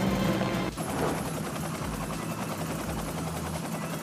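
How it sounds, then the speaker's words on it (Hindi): An Indian Air Force Dhruv helicopter carrying special forces commandos flies overhead, a loud rotor throb that cuts sharply to a steadier, rhythmic chopping drone. "इन कमांडोज की सवारी है ध्रुव हेलीकॉप्टर।"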